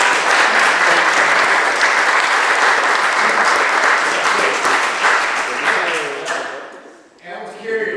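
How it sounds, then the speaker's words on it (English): Loud, sustained applause from a crowd at a speech on socialism, dense clapping filling the room for several seconds before thinning out near the end. "Let's give him another round of applause."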